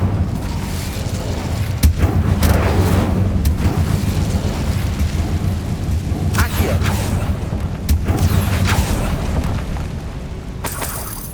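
Booming spell blasts from the Bombarda explosion spell in the Hogwarts Legacy video game, several loud sharp bursts over a dense, rumbling game soundscape with a steady low drone throughout.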